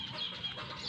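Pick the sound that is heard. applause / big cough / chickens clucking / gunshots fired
chickens clucking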